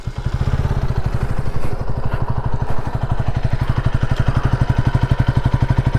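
KTM Duke 160 motorcycle exhaust idling in neutral: a steady, rapid, even thumping putter, close and loud, with no voices.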